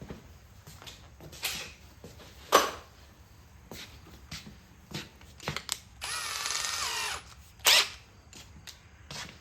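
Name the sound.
power drill running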